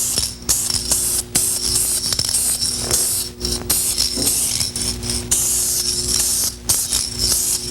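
Aerosol spray paint can misting a coat onto a car body during auto body repair, a continuous close hiss broken by brief pauses and small clicks of the nozzle.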